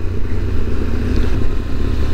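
A QJ SRT600SX motorcycle rides a Pyrenees mountain pass, its engine a steady, loud low drone with wind rush throughout and no voices.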